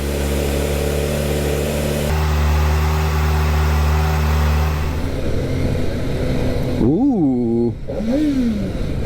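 A Kawasaki Ninja ZX-4RR motorcycle engine at a cold start, loud and close, settling into a high steady idle and then climbing through two quick rising revs, with a brief exclamation from a man.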